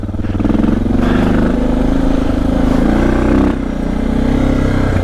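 A big single-cylinder thumper motorcycle engine drones loud and close while riding a mountain pass in the Rockies, a steady low throbbing note with a slight shift in pitch partway through.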